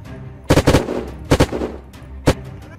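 Gunfire in the video game Unturned during a PvP siege on a military base: three loud, close bursts of rapid shots separated by short pauses.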